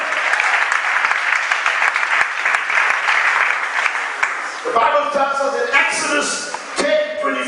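Congregation at a church service applauding, a loud sustained wash of clapping that thins out toward the end as voices and music-like tones rise underneath.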